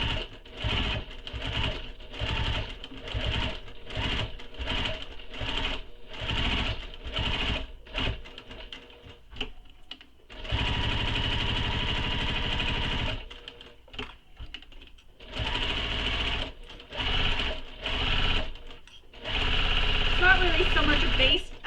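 A sewing machine top-stitches a handbag seam in a run of short whirring bursts with pauses between, then longer continuous stretches, close and fairly loud.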